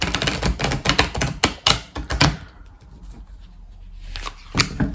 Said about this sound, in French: On va prendre 3 cartes de l'oracle céleste.